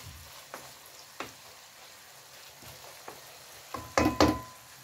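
Kokoreç fat melting in a covered pan gives a faint, quiet sizzle, broken by a few soft stirring scrapes and then a short louder burst of clatter and sizzle near the end.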